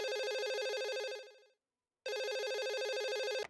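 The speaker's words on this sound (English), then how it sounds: "We've got a phone call." A telephone rings in two loud bursts of an electronic ringtone, a steady warbling tone with a gap of silence between rings, set during a League of Legends match broadcast.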